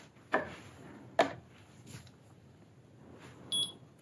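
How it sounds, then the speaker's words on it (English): A single short, high electronic beep near the end from a slim stainless steel digital shipping scale, preceded by a couple of soft taps and clicks in a quiet room. "It beeps when it's finished."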